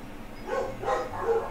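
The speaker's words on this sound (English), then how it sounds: "It's how much they're barking." Several dogs bark repeatedly at a mail carrier in three loud bursts, a little muffled, over a low steady hum.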